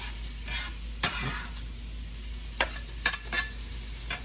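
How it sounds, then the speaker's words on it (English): Steady sizzle of onions and garlic frying in a pan, with a few sharp clinks and stirring scrapes near the end, no voices. "I love that sizzle."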